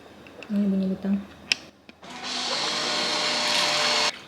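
Mop vacuum running for wet pre-cleaning a floor, a steady loud motor whir starting after a few clicks and a short beep, holding for about two seconds before cutting off.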